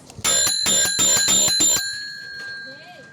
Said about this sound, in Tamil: இதுதான் என்னோட பெல்.